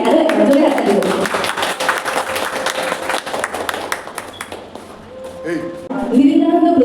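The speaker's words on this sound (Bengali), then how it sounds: "সবাইকে আরো একবার জোরে হাত তালি দেব" Hands clap together in a burst of crowd applause at a blood donation camp, thinning out as a voice talks over it and other voices join near the end.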